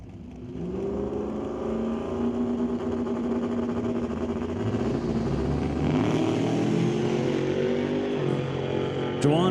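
A 598 cubic inch big block Chevrolet drag car on nitrous makes a full pass, its engine holding a loud, sustained high-revving roar with rising harmonic tones, heard from a moderate distance on the strip.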